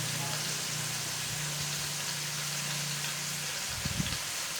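Spices, turmeric, salt and onions sautéing for a quail gravy, a steady soft sizzle with a low hum throughout and a few brief stirring scrapes near the end.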